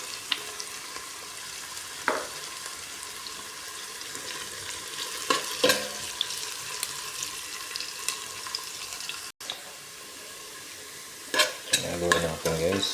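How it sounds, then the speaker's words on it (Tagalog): Onion and garlic sauté in a frying pan for an adobong talbos ng kalabasa dish, a steady soft sizzle with scattered spoon scrapes and stirring knocks, louder clattering near the end, no talk. "Tapos sibuyas. Ilagay na natin yung bawang."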